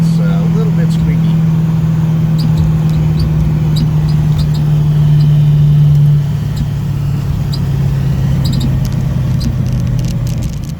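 Edelbrock Pro-Flo 4 fuel-injected car engine idling steadily up close, a constant low hum that shifts slightly in pitch partway through, with faint squeaks in the background.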